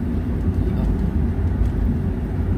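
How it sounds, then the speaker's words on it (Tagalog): A big truck on a narrow rural road makes a heavy, continuous low rumble close by. The rumble holds steady and loud throughout, with no talk over it. "Ay dako kayo nga truck."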